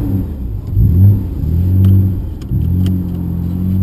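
A Nissan R32 GT-R engine accelerates on a street drive, its deep rumble swelling and easing in repeated revving pulls, close and loud with no talking.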